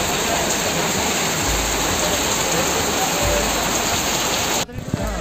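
Heavy monsoon rain pours hard along a road near Shivkhodi cave, a dense, loud, steady hiss that continues without a pause until a sudden drop at the very end.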